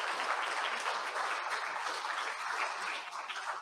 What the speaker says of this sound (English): let's give all of the 9 jurists our appreciation and a round of incredible applause